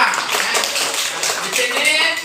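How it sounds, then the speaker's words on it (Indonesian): A classroom claps for a pupil named Keisha, a dense spread of hand claps from a group of students filling the whole moment, with voices mixed in beneath. "tepuk tangan untuk Keisha"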